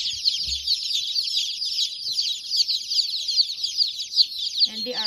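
Newborn Cornish chicks peep constantly in a dense, shrill chorus of overlapping high chirps, close and steady throughout, with a brief low voice or thump near the end.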